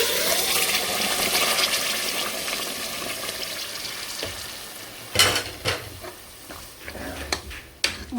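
Beef achar gosht meat dropped into a hot pan and frying, a steady sizzle followed by several sharp clatters and stirring scrapes toward the end, close and fairly loud with no voices.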